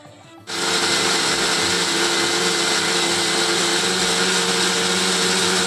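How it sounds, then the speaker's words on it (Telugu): A mixer grinder grinding soaked batter for dosa starts abruptly and runs as a loud, steady, continuous whirr close by, stopping right at the end. "ఇంకో విడత వేస్తాను మిక్సీ"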